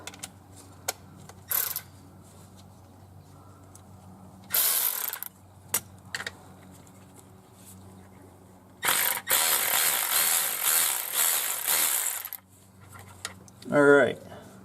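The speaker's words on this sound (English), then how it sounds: "Ended up getting one of these Milwaukee 3/8 battery operated ratchets." Milwaukee 3/8-inch cordless battery ratchet buzzing in several bursts while working on a 6.0 Powerstroke engine, with short clicks between runs and one longer spell of whirring, fairly close.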